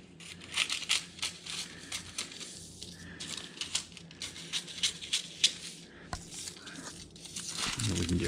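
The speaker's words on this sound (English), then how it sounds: "I'm just gonna take a pair of scissors and just trim off these little edges." Scissors snip and crinkle through parchment paper while trimming edges for sourdough bread, a series of close, dry crunching cuts with brief pauses, mixed with quiet handling noise.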